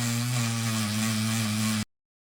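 A loud, steady mechanical grinding whine drones continuously for almost two seconds while grinding at the switch of a broken double plug socket, then cuts off abruptly into silence.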